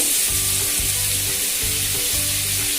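Onion, tomato and capsicum fry in a kadai for a vegetable cheese pizza, with a loud, constant sizzle under a repeating low mechanical hum that pulses roughly every half second.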